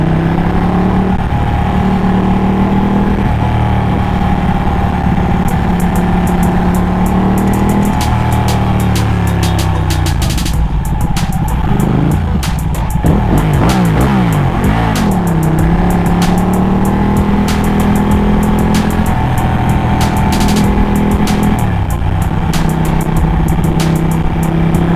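A Ducati 1199 motorcycle rides through heavy California traffic while splitting lanes, its engine loud and continuous throughout, rising and falling with shifts and revs, mixed with surrounding traffic noise and no talking.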